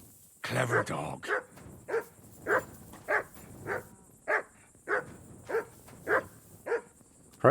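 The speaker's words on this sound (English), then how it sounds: "Clever dog." Dog barking in the video game Kingdom Come Deliverance 2, a steady series of about eleven evenly spaced, fairly loud barks following a brief burst of sound at the start.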